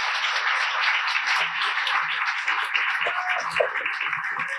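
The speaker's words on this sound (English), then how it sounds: "Let's give Sue another big round of applause." An audience at a yarn-themed listener storytelling gathering claps, giving a steady, even wash of many hands with a few faint voices underneath.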